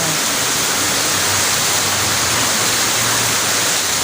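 Floodwater rushes through a canal during a super typhoon, a loud, unbroken roar of turbulent water with no pauses.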